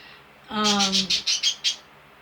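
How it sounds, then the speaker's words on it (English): Pet birds kept indoors let out a harsh squawk, then a quick run of five or six sharp chirps, loud and close, in about two seconds. "I'm sorry about my birds chirping."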